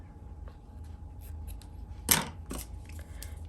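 Scissors snip through a small piece of paper during a papercraft project: one sharp, close cut stands out, with a fainter snip after it, over a low steady background hum.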